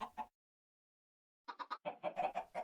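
Chickens cluck in Minecraft: two short clucks, a pause, then a quick run of close, clear clucks.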